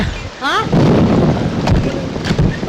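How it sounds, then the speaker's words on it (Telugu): Heavy rain pours down in a steady, loud roar with low thunder rumbling underneath, falling on a house whose roof leaks all over, and a brief rising tonal sweep cuts in near the start. "ఇప్పుడు అర్ధంతరగా ఈ వర్షం పట్టుకుంది"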